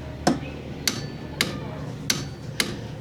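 Torque wrench set to 50 Nm clicking while tightening a bolt on a Yamaha Nmax scooter during a center spring install, five sharp, evenly spaced clicks about half a second apart, close and distinct over a low hum.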